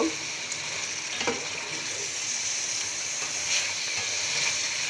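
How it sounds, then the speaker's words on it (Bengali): Beef curry with fatty meat and bone pieces sizzles as it is braised down in a pan with a little water, a continuous close frying hiss with a few stirring scrapes and no talk. "অল্প অল্প পানি দিয়ে মাংস কষিয়ে নিয়েছি"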